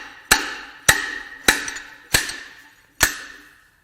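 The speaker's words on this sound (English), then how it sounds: "you thread your slide hammer on" Five sharp metallic impacts from a slide hammer pulling threaded pins out of a Mercedes M278 4.7 bi-turbo V8 block during teardown, spaced roughly half a second apart, each ringing briefly, close and loud with no talk.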